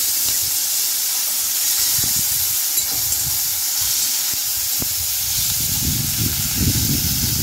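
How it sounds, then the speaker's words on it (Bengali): Chopped onions with a pinch of sugar fry in a little oil in a wok, a loud steady hiss and sizzle throughout with some low stirring bumps, near and alone. "কড়াইতে সামান্য একটু তেল অ্যাড করে দিয়ে দিলাম চিনি 1 চিমটে, আর দিলাম কুচনো পেঁয়াজ।"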